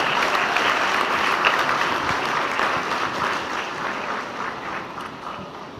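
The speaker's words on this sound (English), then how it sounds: "Let us, with an applause, welcome Professor Joseph Gatti Ambia." Audience applause at a college of education graduation congregation, welcoming a guest speaker: dense, sustained clapping from a large crowd that slowly tapers off.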